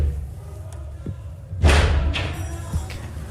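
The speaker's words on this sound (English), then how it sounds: "they listened to the invaders banging on that door, as you can hear on a recording from one of the staffers' phones" Rioters bang on an office door in a phone recording made by a staffer: a heavy thud lands midway, then a couple more muffled knocks against faint background murmur.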